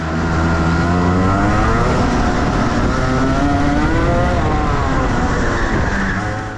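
A professional racing kart engine screams at high revs along the main straight, a loud, close, sustained buzzing drone whose pitch climbs steadily with faint tire scrub underneath.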